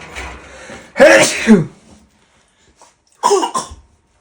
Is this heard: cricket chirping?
no